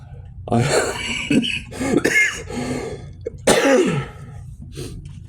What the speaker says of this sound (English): my coughing's starting to get a little worse